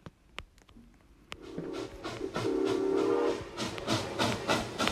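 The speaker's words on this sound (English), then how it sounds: "Time to get in the train." In a video game, a steam train lets out two short whistle blasts over building rumble and chugging, after sharp clicks at the start, loud and close.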